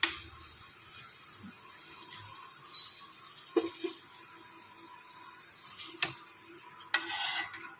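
Fried paneer tipped into a pan of gravy for paneer ghee roast and stirred, soft scraping and wet stirring with a gentle sizzle, punctuated by a few sharp clinks of the spoon against the pan, fairly quiet and close.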